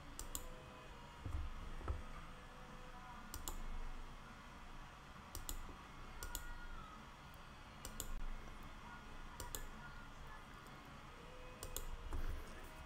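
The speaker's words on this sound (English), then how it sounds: "So I just hold it on shift and I click what I do not want to delete." Sharp clicks of a computer mouse, several spaced out one by one, with the shift key held down as each click selects items. They sound close but fairly faint over a quiet room hum, and no one talks.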